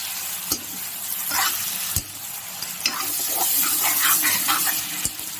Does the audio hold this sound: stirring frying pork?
yes